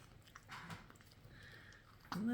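A pet animal biting and chewing a carrot, giving faint, soft, irregular crunches at close range in a quiet room, with a brief voice sound near the end.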